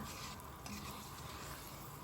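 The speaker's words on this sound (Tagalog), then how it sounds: "Kumukulo na yung ating gata" A pot of coconut milk bubbles and sizzles steadily at close range, a continuous simmering hiss with faint stirring, no voices.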